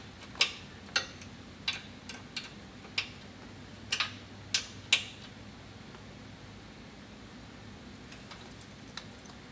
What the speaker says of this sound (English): Now we're going to fully tighten our small anti-rotation bolt right here.